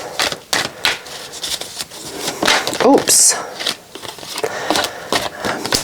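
Tarot cards are shuffled by hand during a reading, with quick, crisp flicks and riffles in irregular bursts close up. A voice speaks briefly.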